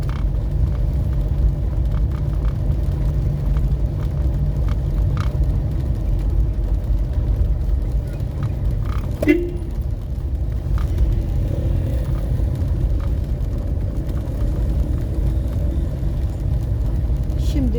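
Steady low tire rumble and vibration from a car driving over a paved stone road with bumps in Rize city centre, a continuous drone heard from inside the vehicle, with a brief thump partway through.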